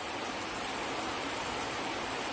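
Heavy rain pours steadily in Chennai, a dense, even hiss of falling water that holds without a break, loud and close, with no voices.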